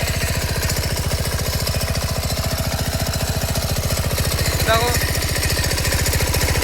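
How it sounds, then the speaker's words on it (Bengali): A motor machine runs with a steady, rapid mechanical pulsing, loud and close throughout, while someone talks over it. "এবার চলছে মোটর মেশিন, দুটোই একসাথে চলছে।"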